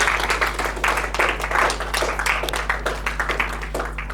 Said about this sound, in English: Huge round of applause for Ravesh Naik.